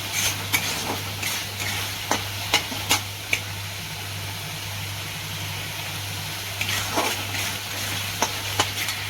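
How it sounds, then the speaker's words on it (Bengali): Onion, capsicum and sauce for pasta stirred in a sizzling pan, a steady close fry with sharp spatula scrapes and taps against the pan at irregular intervals over a low hum. "এবার সসটা দিয়ে ভালো করে একটু নেড়ে দেবো, তারপর পাস্তাগুলো দেবো"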